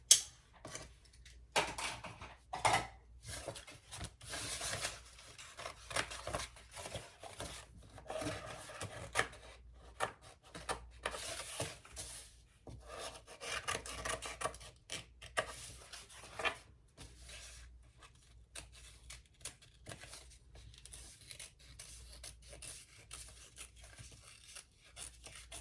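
Scissors cutting out a fabric piece for a Ciana crossbody bag, with repeated crisp snips and rustling of material close by, continuing in irregular bursts throughout.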